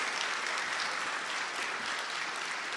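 An audience at a ribbon-cutting ceremony for the Martin Luther King Jr. Center breaks into steady, dense applause from many hands, filling the room with no voices above it.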